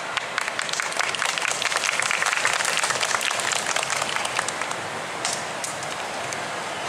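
An audience claps loudly and densely at an outdoor school brass band concert during a Ginza street festival, a sustained burst of applause that peaks early and slowly thins toward the end.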